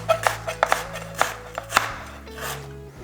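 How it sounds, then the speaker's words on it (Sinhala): Knife chopping onions on a board while making chicken soup, with a series of crisp, irregular cuts heard up close over a low steady background hum. "දැන් ලුණු ටිකත් මේ විදිහට මම කපනවා"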